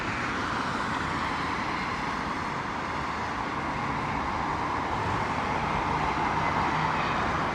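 An Airbus A321neo airliner arriving from Beirut at London Heathrow, a steady distant broadband jet roar holding evenly throughout with no talk over it.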